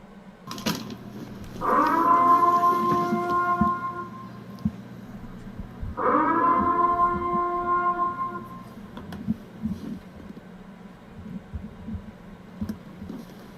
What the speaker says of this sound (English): With the Purge siren.